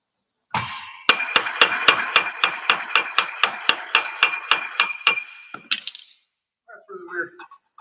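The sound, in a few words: hammer striking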